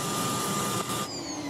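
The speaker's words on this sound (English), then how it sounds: "Its latest Roomba vacuum is a robotic powerhouse" An iRobot Roomba robotic vacuum runs with a steady broadband whir and a thin whine, fairly close, shifting slightly in tone partway through, with no voices.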